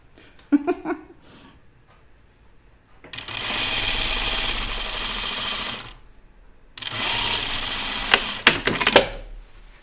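A serger runs in two steady sustained bursts while sewing inseam pockets on an Upton dress, preceded and followed by brief clicks and handling sounds; the machine's whir is loud and close with no talking.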